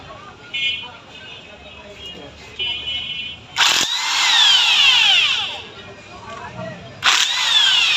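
Power tools whir and clank in short bursts at close range while a Pulsar 150 motorcycle engine, taken out of the bike's body, is being dismantled.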